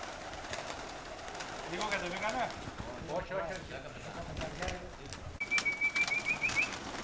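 Birds flush and call, with cooing and chirping notes over outdoor background noise and voices, as two birds take off; a bright whistled trill comes near the end.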